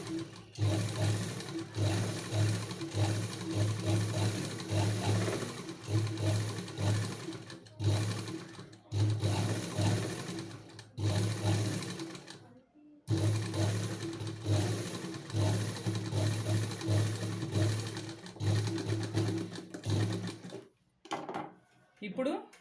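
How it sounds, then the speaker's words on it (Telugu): A sewing machine stitches a blouse waist belt in steady bursts of rapid mechanical whirring, pausing briefly between runs and stopping near the end. "దీనిపైన ఒక కుట్టేసుకోవాలన్నమాట అప్పుడు ఫోల్డింగ్ అనేది మనకి నీట్గా ఉంటుందండి"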